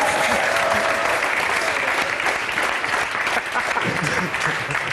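Sustained applause from a studio audience at a French comedy TV show, steady and dense clapping filling the full stretch with a faint murmur of voices underneath.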